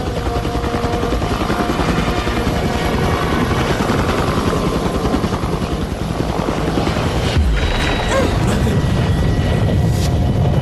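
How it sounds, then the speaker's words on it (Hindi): A helicopter roars loudly and continuously overhead, its rotor chopping throughout with a steady engine drone and no pauses. "देखो वो हेलीकॉप्टर है।"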